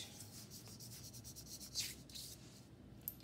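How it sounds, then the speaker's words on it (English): Chalk rubbed and blended across a drawing gives faint, soft, repeated scratchy strokes in a quiet room, with one slightly louder swipe partway through. "I'll go back in and add some highlights with the chalk, and I'm going to blend."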